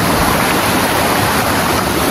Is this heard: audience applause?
no